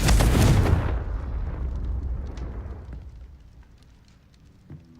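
A Confringo spell blasts in Hogwarts Legacy, fired at spiders in a cellar: one loud, close explosion in the first second, then a rumbling decay that fades away over several seconds.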